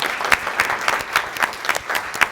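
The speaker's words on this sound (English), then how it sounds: "let's give Stijn a round of applause." Audience applause at an academic prize award ceremony, a steady round of clapping from a room of people with sharper individual claps rising above the wash, no talking.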